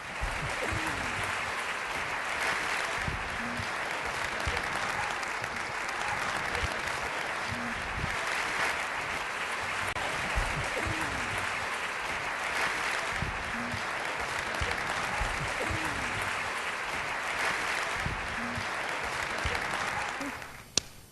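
Sustained audience applause fills a City Opera House as an author is welcomed onstage for a literary evening, steady and dense throughout with a single sharp knock at the very end.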